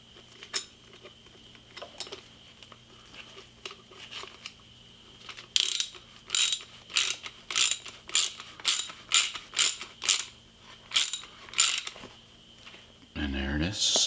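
A socket wrench ratchets in a quick run of sharp clicks, a dozen or so evenly spaced, as a part on a Tritech T5 paint gun is tightened until snug, followed by a brief rustle.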